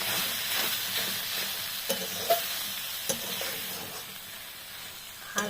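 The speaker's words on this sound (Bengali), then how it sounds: "পোস্তটা দিয়ে একটু নাড়াচাড়া করে" Poppy seeds frying in a pan, a continuous soft hiss and sizzle with occasional light taps and scrapes of a stirring spoon, close and fairly quiet, no voices.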